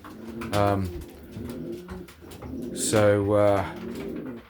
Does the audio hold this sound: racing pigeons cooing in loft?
yes